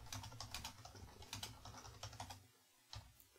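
Quiet typing on a computer keyboard, irregular bursts of soft key clicks that pause briefly near the end.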